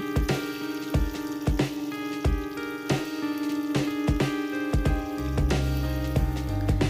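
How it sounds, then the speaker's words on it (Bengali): Eggplant slices for masala doi begun fry in hot oil, giving a steady crackling sizzle with sharp pops scattered throughout and a low hum swelling near the end. "এরপর পাত্রে তেল গরম করে আমরা বেগুনগুলো ভেজে নেব।"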